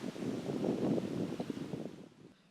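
Steady wind at Lake Weddington, Arkansas, roars and buffets the microphone in broad rushing gusts, loud and close, easing off near the end.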